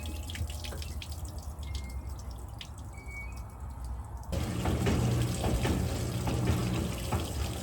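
Drain water from a washing machine pours and splashes steadily onto the ground, growing louder and fuller midway, a continuous close rush with no voices.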